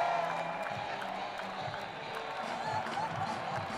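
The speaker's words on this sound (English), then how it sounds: "Great atmosphere from the crowd." Spectators line the course at the Rio 2016 Olympic men's marathon, a continuous distant crowd roar with scattered cheers and clapping, steady and moderate, with commentary running over it.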